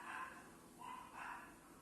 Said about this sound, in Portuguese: Tem um cachorro.